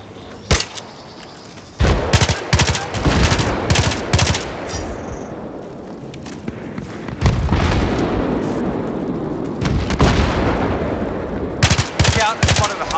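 Battlefield 3 on Xbox 360 at Caspian Border in Rush mode, with loud sustained bursts of machine gun fire, explosions and rumbling battle noise, broken by short lulls and overlaid with in-game radio voices.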